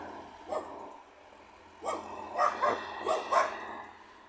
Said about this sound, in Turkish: Orada havlayan köpekler sanırım kafes içindeler.